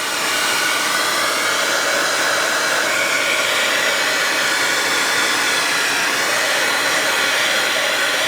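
A handheld dryer blowing on the back of a modeling paste craft tag, producing a loud, steady, unbroken rushing whoosh close by for the whole stretch.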